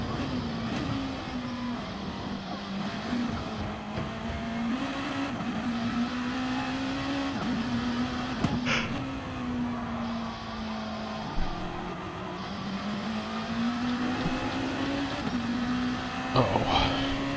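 A GTCA Group 2 race car engine drones steadily through a racing game lap at the Nurburgring GP circuit, its pitch rising and falling with the throttle, loud and continuous with a few brief clicks.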